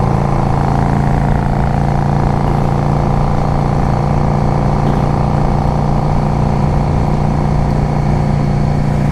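A 2005 Yamaha V Star 650 motorcycle rides along with a continuous loud engine drone and heavy wind rumble, steady throughout with no voices.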